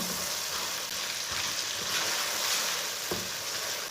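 Chopped tomatoes and green chillies cook in a pan for a chicken curry, giving a faint, steady low sizzle and bubbling throughout, with an occasional soft clink and no voices.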